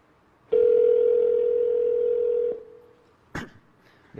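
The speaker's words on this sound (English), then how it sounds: "I'll call his mobile number right now." A steady ringback tone on the original 2007 Apple iPhone as it places a call, lasting about two seconds before cutting off, followed by a short click.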